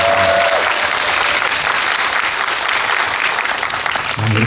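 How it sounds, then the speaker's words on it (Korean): Audience applause for Song Kyung-ho, editor-in-chief of Cine21, at a Busan International Film Festival guest talk for the film 'Boss'; a dense, steady crowd clapping that fills the room and continues without break. "여러분 큰 박수 부탁드리겠습니다."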